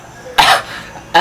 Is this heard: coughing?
yes